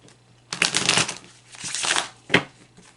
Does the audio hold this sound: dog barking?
no